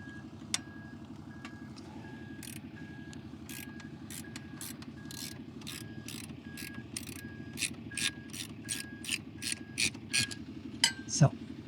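Ratchet wrench loosening bolts on a Royal Enfield Classic 350 motorcycle during shifter installation: a long run of rapid ratcheting clicks that grows louder and more clustered toward the end, over a steady low hum.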